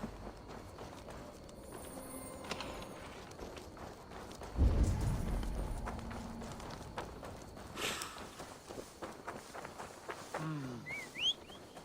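A horse's hooves clip-clopping in Assassin's Creed Valhalla, a quiet walking rhythm of hoofbeats with a louder burst of movement midway, set against soft game ambience and faint birdsong, no talking.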